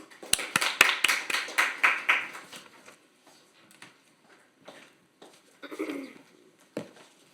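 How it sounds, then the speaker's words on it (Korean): A burst of clapping from an audience at a policy discussion forum that quickly thins out, followed by scattered claps and a few faint rustles. "큰 박수 부탁드립니다"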